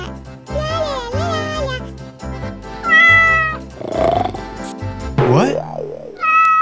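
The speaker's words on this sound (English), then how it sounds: "I will take my cat." A cat meows repeatedly in rising and falling cries, close and loud, mixed with high chirpy sounds and a brief spoken word from a person.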